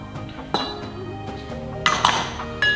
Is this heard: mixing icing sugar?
yes